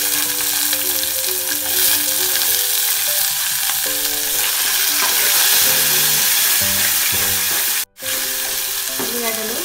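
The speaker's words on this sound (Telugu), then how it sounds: "ఉల్లిగడ్డలు మంచిగా గోలుచుకోవాలి." Onions fry for a tomato curry with a loud, continuous sizzle and the scrape of stirring in the pan, broken by a very short gap, with no speech.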